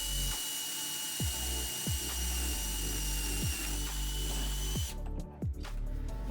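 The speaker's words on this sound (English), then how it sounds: "right now we're using a 3/8 bit to drill the hole to snake" A power drill fitted with a 3/8 bit bores a hole for routing LED lighting cable, a steady close whine broken by several short bumps and clunks as the bit bites.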